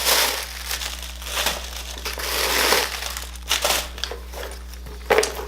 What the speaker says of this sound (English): take the paper out.